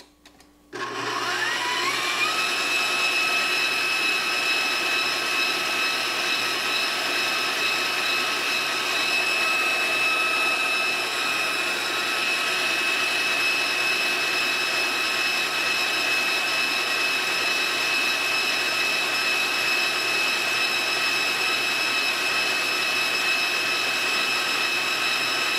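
An electric hand whisk whips cream for an old-fashioned Irish trifle, with vanilla and gelatin added, making a steady, loud, unbroken motor whine that runs alone and close for the whole stretch.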